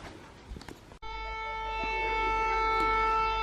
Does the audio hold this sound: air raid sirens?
yes